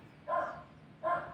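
Dogs bark twice, each a short moderately loud bark roughly a second apart, heard at middle distance over a faint background hum with no speech.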